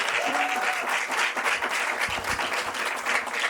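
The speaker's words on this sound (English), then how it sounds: "Give a warm applause to Asghar Farhadi." Steady applause from an audience welcoming a film director fills the whole stretch, dense and continuous, with the clapping sustained at an even level.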